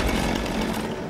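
A chainsaw revs in the horror film Texas Chainsaw, a loud, continuous, rough engine drone that fills the moment with no talking over it.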